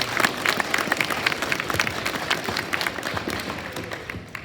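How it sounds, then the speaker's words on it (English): Audience at a DARE graduation clapping, a dense burst of applause from a crowd, close and steady, gradually thinning and fading toward the end. "we give them a round of applause for their work"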